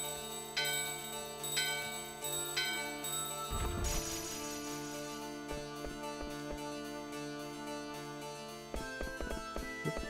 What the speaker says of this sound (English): Let's ring the bell.